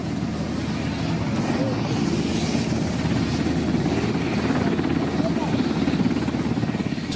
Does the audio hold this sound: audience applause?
no